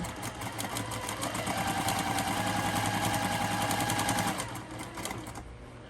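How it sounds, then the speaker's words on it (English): A sewing machine stitches the final row of a patchwork Halloween quilt, running in a fast, even mechanical whir for about five seconds before slowing at the end. "I'm going to sew this final row on"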